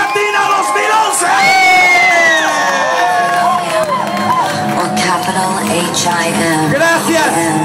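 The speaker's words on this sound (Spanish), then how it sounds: "el aplauso fuerte para nuestra reina Jay Latina 2011" A crowd at a gay Latina beauty pageant coronation cheers, whoops and shouts loudly and continuously for the newly crowned queen, with voices rising over the noisy hall and music beneath.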